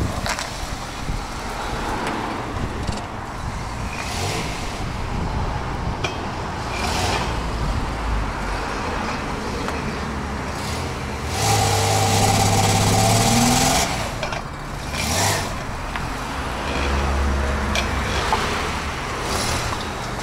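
A 1994 Dodge Grand Caravan drives up onto a trailer, its engine running steadily at mid revs with a rise in throttle partway through, close and continuous over outdoor background noise.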